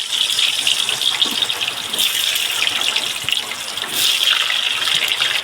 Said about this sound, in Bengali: আজকে যা বৃষ্টি নামছে অনেক বৃষ্টি